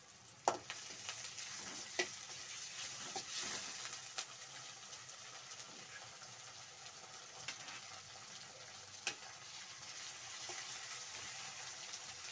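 Garlic-ginger paste frying with onions for capsicum chili, a steady soft sizzle throughout with occasional utensil taps and scrapes against the pan.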